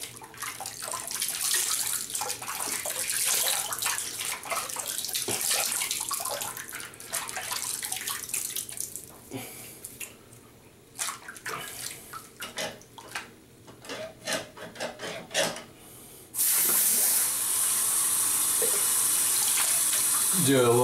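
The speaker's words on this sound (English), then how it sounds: "Do a little cold water rinse." Cold tap water runs steadily at close range as a rinse after a safety-razor shave, with a louder, fuller gush of flow near the end.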